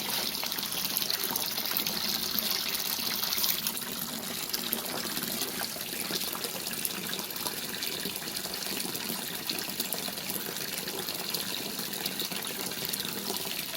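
Water trickles and flows steadily into a homemade koi tank filter, a continuous, moderately quiet splashing and gurgling with no voices.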